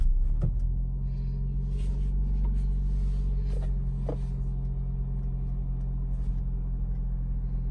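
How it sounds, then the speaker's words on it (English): A 2019 Lexus RX300 engine idles steadily after a push-button start with a low, constant rumble, a couple of faint clicks sounding over the hum. "press the start button. The engine starts."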